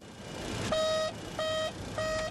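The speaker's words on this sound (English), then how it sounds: "This is the warning horn noise a pilot of a 727 hears if he attempts to take off without his flaps down." The Boeing 727 takeoff configuration warning horn, which sounds when takeoff is attempted without flaps down, gives three repeated intermittent beeping tones over a steady cockpit rumble.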